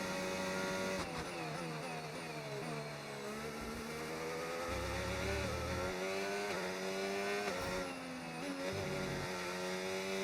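F1 race car engine in F1 25 at the Australian circuit, a high harmonic whine that rises and falls through gear changes and braking into corners, continuous and fairly faint.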